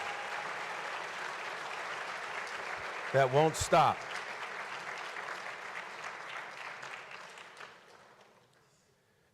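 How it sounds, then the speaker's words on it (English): An audience applauds at the El Paso Our Community Salutes ceremony, steady clapping that carries under a brief spoken phrase and a burst of music, then gradually thins and fades out. "How about a round of applause for all those names"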